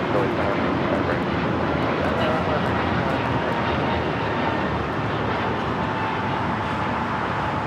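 An American Airlines jet bound for Philadelphia takes off at LAX, a loud, steady, broadband engine roar that holds for several seconds, with faint voices underneath.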